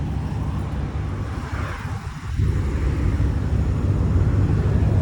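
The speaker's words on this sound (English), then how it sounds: "Really quiet engine." A 2017 Ram 1500 Rebel pickup idles steadily with its hood open, a low, smooth, fairly quiet rumble that holds constant and swells slightly louder midway, with no talking over it.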